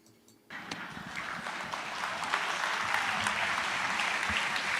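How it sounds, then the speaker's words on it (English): An audience bursts into applause after a quiet start, a dense crowd clapping that begins abruptly and swells slightly, sustained and fairly loud to the end. "What are they clapping about?"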